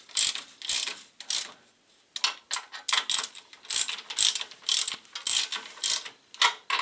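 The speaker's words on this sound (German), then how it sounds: "Dann schrauben wir auch hier wieder den Achsträger fest." Repeated ratcheting clicks from a wrench tightening the subframe bolts on a VW Passat B7 during a clutch replacement, coming in short bursts of rapid clicks with brief pauses, close and fairly loud, no talking.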